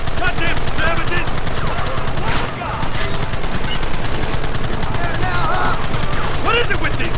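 Continuous rapid gunfire from the Xbox Western game Red Dead Redemption during a shootout, with dense machine-gun-like bursts that dip only briefly and game voices shouting underneath.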